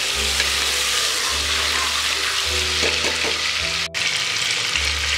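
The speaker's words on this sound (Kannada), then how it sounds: "ಟೊಮ್ಯಾಟೊ ಹಾಕ್ಬಿಟ್ಟು ಒಂದು 2 ನಿಮಿಷ ಫ್ರೈ ಮಾಡ್ಕೊಳ್ಳಿ." Tomato frying in oil in a pan: a dense, continuous sizzle close by, over a low steady hum that cuts in and out, with a brief dip near the end.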